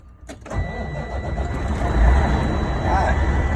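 A diesel truck engine cranks and catches after a short quiet moment, then settles into a steady, loud low rumble that swells slightly as it idles up close inside the cab; a voice is heard over the running engine.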